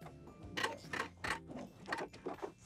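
A sewing machine backstitches an apron seam, stitching in short quick bursts with brief pauses between them, close and fairly quiet with a mechanical rattle.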